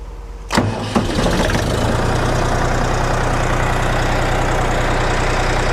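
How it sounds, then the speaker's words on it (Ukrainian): The diesel engine of a DMTZ 255X mini tractor, a KM385BT, cranks briefly and catches, then settles into a steady, loud, low idle with a continuous chugging rumble. "Беремо, запускаємо двигун, перевіряємо."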